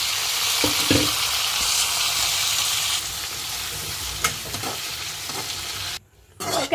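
Tomato, onion and green chilli fry in hot oil, a steady loud sizzle with scraping stirs throughout, dropping off briefly near the end before the sizzle returns.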